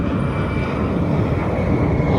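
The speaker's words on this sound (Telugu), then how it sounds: "ఫ్లైట్ చూడండి గైస్ ఎలా వెళ్తుందో" A flight passing overhead in the evening, a steady loud roar of aircraft engines that holds constant throughout, dominating the scene.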